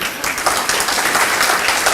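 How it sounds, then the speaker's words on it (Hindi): A crowd applauding steadily for two seconds, dense clapping with no voices over it. "तालियां।"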